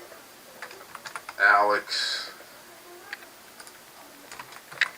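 Light, scattered clicks of typing on a computer keyboard, close and quiet, broken by a brief spoken word in the middle.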